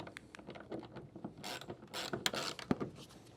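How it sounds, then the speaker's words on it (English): Ratchet wrench tightening a clamp bolt on the bed rail of a 2025 GMC Sierra truck during accessory installation, heard as a run of quick close mechanical clicks and rattles in bursts, with no talking. "and then you'll tighten up the bolt as such."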